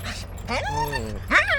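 A dog at a chicken coop whimpers and yips in high, drawn-out whines, close by, with a short bark-like burst between the cries.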